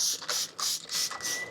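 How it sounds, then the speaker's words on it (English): Several quick hissing spray bursts of neem oil from a pump bottle onto ants in a garden, close by, in an uneven rhythm with brief gaps between squirts. "I'm going to come in with the neem oil and spray these ants."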